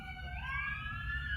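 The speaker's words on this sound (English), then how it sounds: "excuse the sirens" A siren wails steadily in the distance, its rising tone held over low background rumble, with no talking.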